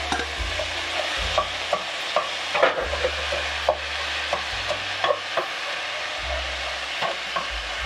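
Food fries in a pan with pork drippings, making a continuous loud sizzle broken by repeated scraping stirs and occasional knocks of a utensil against the pan.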